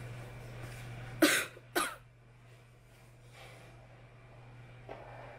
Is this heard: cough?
yes